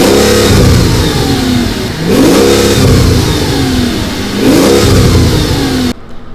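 A twin-turbo V12 Mercedes engine revs loudly and close by in three rising, sweeping bursts, each climbing then dropping back, with a steady rumble between them until it cuts off abruptly near the end.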